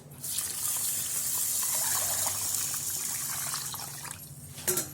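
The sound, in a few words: pouring water onto basmati rice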